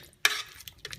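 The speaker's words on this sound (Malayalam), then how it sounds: "അതിനുശേഷം നന്നായിട്ട് ഈ മസാലയായിട്ട് മിക്സ് ചെയ്ത് യോജിപ്പിച്ച് കൊടുക്കാം" Chicken being stirred into masala in a pot while making kabsa rice, a sharp scraping stir burst followed by softer intermittent scrapes and light sizzling.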